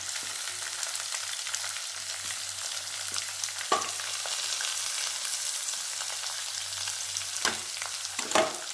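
Chopped onions, green chillies and curry leaves sauté in hot oil for tomato chutney, giving a steady, close sizzle and frying hiss broken by a few louder scraping stirs of the spoon, with no voices.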